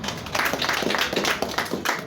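An audience at a Kenyan awards unveiling event claps for the sponsors, a dense sustained patter of many hands with no pauses throughout.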